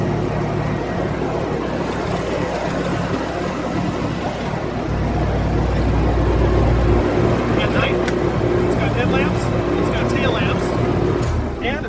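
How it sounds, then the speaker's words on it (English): A John Deere 345 lawn tractor runs with its snow blower engaged, giving a continuous, close engine drone and mechanical rumble that swells slightly partway through, with some faint higher rattles later on. "and then engages the blower. I'll then lower my blower, and I'm ready to go."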